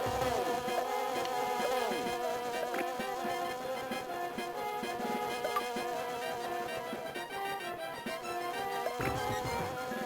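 An insect enemy from the Donkey Kong Country game on Game Boy Advance buzzes steadily and loudly with a droning whine, layered over continuous game music for the whole stretch.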